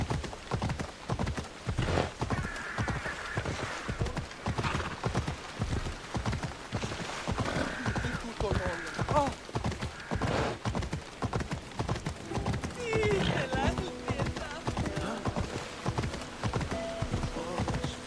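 A horse's hooves clip-clop at a steady gallop in Assassin's Creed, running continuously and close up, with a brief whinny partway through and light game ambience beneath.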